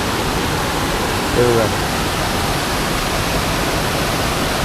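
A monsoon-swollen stream in flood at Rajapur in the Konkan rushes as a constant, broad roar of water, close and unbroken, with a brief faint voice surfacing once partway through.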